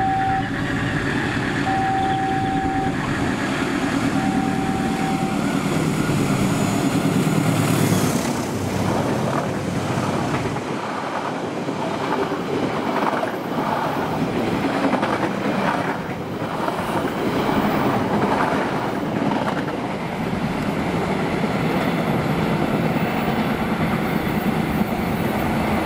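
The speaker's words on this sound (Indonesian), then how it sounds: "setelah ini akan melintas kereta api Sembrani" The Sembrani express train rushes past at high speed on an Indonesian main line, a loud, sustained roar with wind buffeting and rhythmic wheel clatter, preceded by a horn blast.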